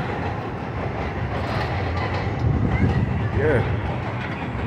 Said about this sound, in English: There's a train up there. That is the Q train.